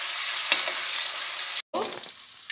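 Ginger garlic paste sizzles steadily in a hot oiled pan for elephant foot yam cutlet, a constant bright hiss with a brief cutoff and a few clinks of stirring.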